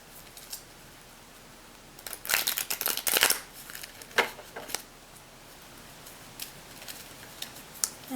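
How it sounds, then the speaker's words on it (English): Magic: The Gathering cards riffle-shuffled close up: a dense rapid flutter of snapping cards, then scattered taps and clicks as the deck is squared, no talking. "And I'll shuffle the bottom part."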